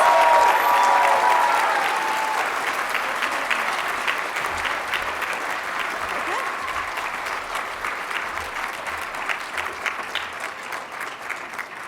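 Sustained applause from a graduation ceremony audience celebrating graduates of a university communication department, loud at first and then settling into a steady, dense clapping that continues throughout with faint voices beneath.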